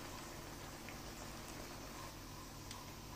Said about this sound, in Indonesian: Kita biarkan sampai mendidih.